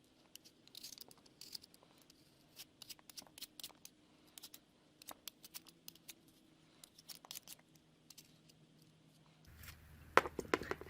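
Apples being peeled and sliced by hand before dehydrating, heard as faint, close, irregular scraping and crisp cutting strokes in quick bursts, with a low hum and a slightly louder rumble at the end.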